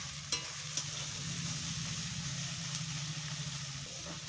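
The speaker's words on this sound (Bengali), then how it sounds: "দেখো রসুনটাও ভাজা হয়ে গেল" Garlic frying in oil and ghee for a village-style chicken and potato curry, a constant close sizzle with stirring scrapes and a couple of sharp utensil clicks.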